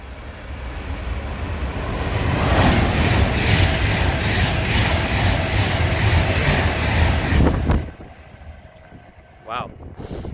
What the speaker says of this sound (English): approaching now, we're going to have an Avanti Pendolino bound for London Euston